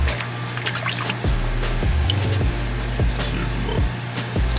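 A hand stirs and swishes the water in an Asian water monitor's enclosure pool, making repeated soft sloshes and trickles over a steady low electrical hum, with no talking.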